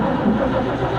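A cold 1941 Chevrolet 216 six-cylinder engine cranks over on the starter at about 30 degrees, a steady, loud, continuous churning drone with no catch, heard up close and alone.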